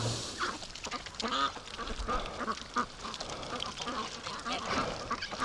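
A group of farm ducks quacks and honks in busy overlapping calls along a muddy trail, close and steady throughout, with some faint voices mixed in.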